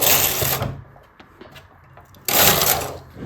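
Knitting machine carriage swept across the needle bed while working a cable pattern, two loud rasping whooshing passes at the start and end with a quieter clicking gap between.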